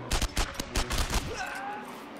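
Gunfire in the World War II shooter Enemy Front, winter level at Vemork: a rapid burst of loud, close shots firing in quick succession, followed by a brief fading tail with faint game tones.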